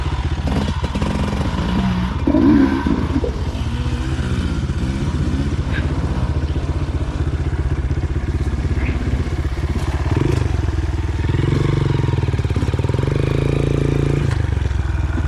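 A Honda CRF230F dirt bike pulls hard in first gear up a trail, its engine loud and close, revving and straining continuously, with occasional thumps and clatter from the rough ground.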